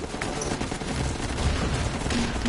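Rapid, continuous gunfire fills Guns Up during its Halloween event as units shoot at structures, a steady loud volley of overlapping shots throughout.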